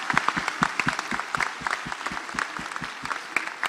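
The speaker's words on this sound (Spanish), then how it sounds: "Vamos a darles un aplauso cariñoso" Warm applause from a congregation at a church missionary congress, with individual claps sharply audible in a fairly small, close crowd, continuing steadily throughout.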